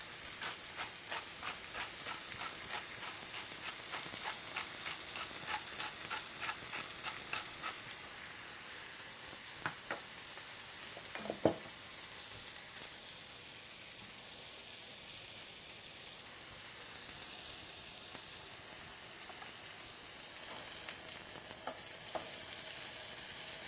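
NY strip steak sears in a hot pan, a continuous bright sizzle with crackling pops and a sharp clink around the middle, no voices.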